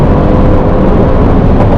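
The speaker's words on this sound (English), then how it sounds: "this car just pulls, man, at any revs" Engine of a 2018 Mercedes-AMG C63s sedan pulling hard under acceleration, a loud, steady, dense roar that fills the whole stretch without a break.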